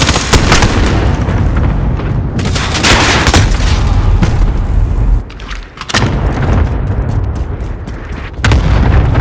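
Cluster strike explosions in Call of Duty Modern Warfare roll out as a dense, continuous barrage of loud booms and crackling blasts, briefly dipping before surging again.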